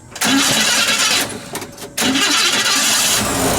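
A 1955 Chevrolet Bel Air's 235 cubic-inch inline-six engine cranks briefly, catches, stumbles for a moment, then roars back up to a loud, steady run close by.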